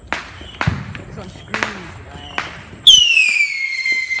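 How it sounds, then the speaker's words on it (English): A bottle rocket firework launches with a sharp crack and a rising, shrill whistle that carries on for over a second, loud and close, after several earlier pops and bangs with people talking in between. "Another bottle rocket going up."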